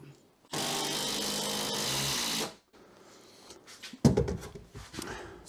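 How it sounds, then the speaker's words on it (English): A power driver runs 100mm screws into timber shelf supports for garage workshop shelving, one loud steady two-second burst of motor whine, then a quieter pause with a few knocks and handling clatter. "Then on the front, I'm just face fixing them again with 100mm screws"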